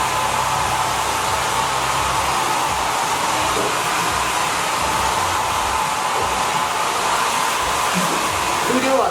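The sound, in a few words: Holistic Cure hair dryer drying hair in airy mode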